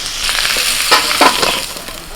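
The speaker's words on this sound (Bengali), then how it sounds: "কুঁদরির আলুটাকে ভালো করে ভেজে নিয়েছি" Potato and kundru (ivy gourd) pieces fry in a wok with turmeric and salt, a close, steady oil sizzle broken by a few scraping stirs of the spatula, with no voices.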